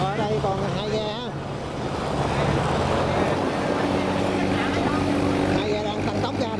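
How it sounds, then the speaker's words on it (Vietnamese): Two motorboats loaded with rice roar and rise in pitch as they accelerate through a saltwater sluice gate, with someone talking over the steady engine drone and water noise. "Hai ghe đang tăng tốc ra để cống đóng nè."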